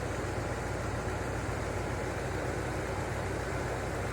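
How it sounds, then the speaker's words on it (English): A 1973 Chevrolet Corvette 454 big block V8 with automatic transmission runs at a steady idle, giving a constant, even rumble with no voices. "Engine sounds really good."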